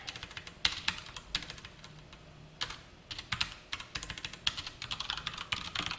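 Close, brisk typing of Java code on a computer keyboard, uneven bursts of sharp clicking keystrokes with short pauses between runs, faint and alone.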